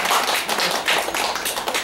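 Audience at a gut-health lecture clapping at the close of the talk, a dense, steady patter of many hands lasting a couple of seconds, with no voices over it.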